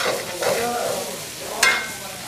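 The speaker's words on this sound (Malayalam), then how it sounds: "എണ്ണ ചൂടാകുമ്പോഴത്തേക്ക് നമ്മൾ സവോള ഇട്ടു." Sliced onions sauté in hot oil in a pan, giving a continuous close sizzle with stirring scrapes and one sharp clink near the end.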